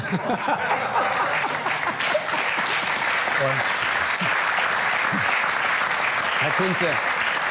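Studio audience on a German late-night talk show clapping steadily, with a few chuckles mixed in, while a voice briefly speaks over the applause.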